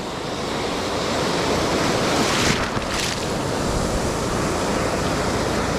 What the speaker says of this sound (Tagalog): lalaki talaga ng alon